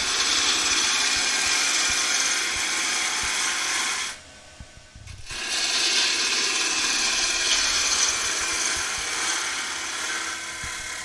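A wood lathe spins a thin-walled bowl under a turning gouge, a steady broadband whir and scrape running loud and continuous, cutting out briefly to near silence for about a second before resuming just as strongly.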